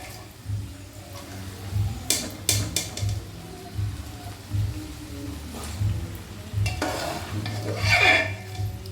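Boiled peas tipped through a strainer into fried masala for ghugni and stirred in a pan: repeated scraping stirs and soft wet sizzling, with a few sharper clatters, close and steady throughout.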